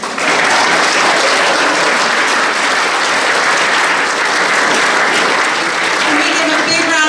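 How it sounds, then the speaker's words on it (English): Loud, sustained crowd applause fills a school hall during a fifth grade promotion ceremony, celebrating perfect attendance students; dense clapping continues evenly for about seven seconds, with a voice faintly heard beneath it. "Can we give a big round of applause for all of these perfect attendance students?"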